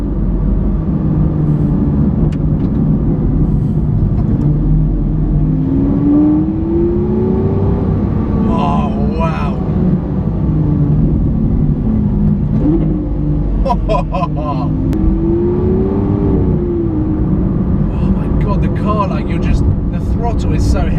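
A Lamborghini Aventador with a single-clutch gearbox in sport mode revs and accelerates hard, its engine note rising and falling through loud close pulls and shifts, with a voice talking over parts of it.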